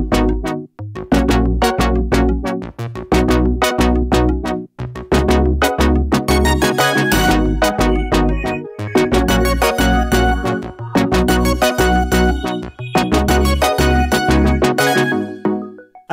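Drop of an electronic remix: loud, punchy four-on-the-floor kicks under bright synth chords and plucks, driving continuously with brief gaps at phrase ends.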